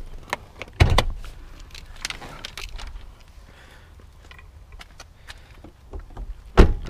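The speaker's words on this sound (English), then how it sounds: "Trunk release." A sharp mechanical thunk and latch click of a 2007 Cadillac DTS trunk release, followed by faint rattles and a second solid clunk near the end, close by in a quiet setting.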